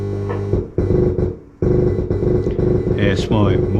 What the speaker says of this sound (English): That's my Morse code ID.